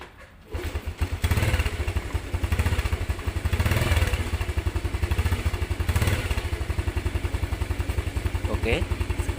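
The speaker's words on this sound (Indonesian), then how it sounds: "Kita hidupin motornya." A motorcycle engine starts with a thump and settles into a steady, loud idle, its exhaust pulsing in a fast even rhythm up close, with a brief high whistle near the end.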